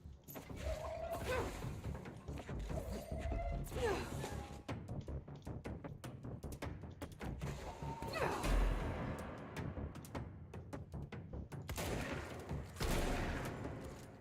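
Rapid gunfire in the video game Control, repeated bursts of shots with thuds and impacts scattered across the whole stretch, dense and fairly loud with no talk over it.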